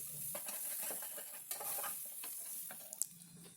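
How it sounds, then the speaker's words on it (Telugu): Drumstick curry with turmeric being stirred in a pan over a low flame, a soft continuous sizzle broken by a few sharp spoon scrapes and clinks, close and fairly quiet with no talk. "మంచిగా కలుపుకోవాలి"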